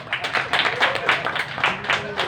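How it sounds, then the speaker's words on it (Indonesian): Quick, steady clapping from a group, a brisk rhythmic pattern of sharp claps with voices faintly mixed in. "Ya, karena tepuk dulu Ibu Dona nih."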